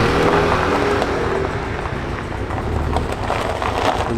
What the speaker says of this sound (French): La voiture elle fait trop de bruit pour ses voisins